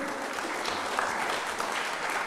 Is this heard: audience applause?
yes